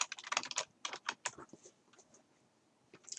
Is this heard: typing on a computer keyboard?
yes